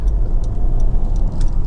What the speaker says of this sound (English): Engine starts absolutely instantly.